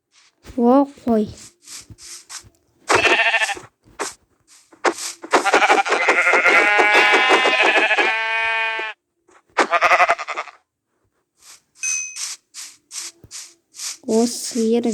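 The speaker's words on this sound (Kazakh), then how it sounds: "О, қой." Sheep bleating in a video game, several wavering bleats spread across the clip, loud and close, with a voice talking briefly at the start and near the end.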